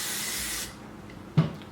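Hairspray hisses from an aerosol can onto beachy waved hair in one close, continuous spray of about half a second, then stops. A soft knock follows.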